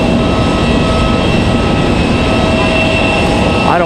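Airplanes at Raleigh-Durham International Airport give off a loud, continuous roar of jet engines that holds steady, close and dominant throughout.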